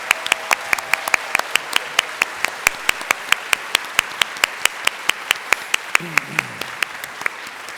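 Audience at a staff service awards ceremony applauding honorees, with sparse, steady hand claps at a moderate distance and a voice talking briefly over them.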